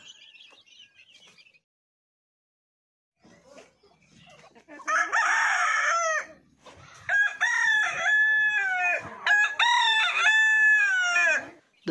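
Desi chickens and young chicks on a village poultry farm: faint high chick peeping at first, then loud clucking and repeated harsh calls from nearby hens and roosters.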